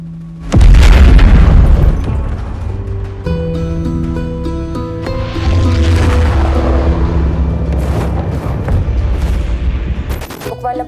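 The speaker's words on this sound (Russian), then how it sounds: "На территории Верданского аэропорта прогремело несколько взрывов." Several explosions go off at the Verdansk airport in the video game Warzone: a loud boom opens, then heavy rumbling blasts and crackling detonations build through a sustained, dense roar with layered tones underneath.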